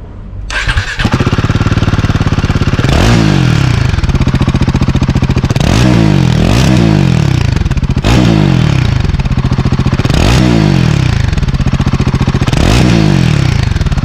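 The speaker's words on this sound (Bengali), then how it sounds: "এক্সস্ট নোটটা তোমাদের সাথে শেয়ার করছি, একবার শুনে নাও।" A Royal Enfield Guerrilla 450 roadster starts up and idles loudly nearby, its exhaust thumping evenly, with several sharp throttle blips rising and falling in a repeating pattern.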